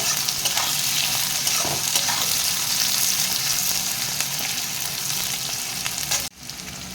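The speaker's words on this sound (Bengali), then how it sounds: "সব কিছু ভালো করে পেঁয়াজের সঙ্গে ভেজে নেব" Onion, garlic, ginger and green chili fry in a pan with a loud, continuous close sizzle and faint stirring, ending in an abrupt drop near the end.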